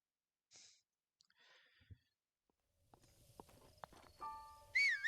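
Horse hooves clip-clopping in The Legend of Zelda Breath of the Wild, a run of light steady game footfalls picking up in the second half, with a snort and a brighter chime-like game sound near the end.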